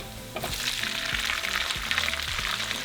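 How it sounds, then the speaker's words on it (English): Jalapeños and onion hitting a pan of crisped bacon start an instant sizzle that grows to a steady, close crackle with light stirring thumps underneath. "now we're going to add our jalapenos"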